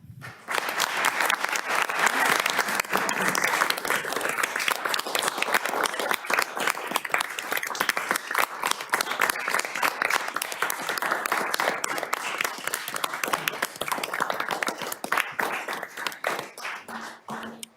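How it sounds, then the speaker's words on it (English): Audience applause at a city council meeting honoring the Lake County State's Attorney's Office, a dense sustained clapping from a large crowd that holds steady for many seconds before thinning near the end. "I hope that we can all give them a round of applause"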